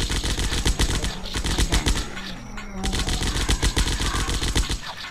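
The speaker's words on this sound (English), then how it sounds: "Dual pistol. Oh yeah, dual. We got dual pistol." Dual pistols fire in rapid bursts in the zombie shooter game Zombocalypse, loud dense crackling shots with a brief gap in the middle, while a player briefly speaks.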